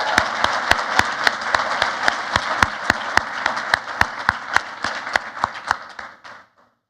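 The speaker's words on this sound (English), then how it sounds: "Let's give them another round of applause." Applause for nursing graduates at a university graduation ceremony, with a crowd clapping steadily, strong rhythmic claps standing out near the microphone, then dying away after about six seconds.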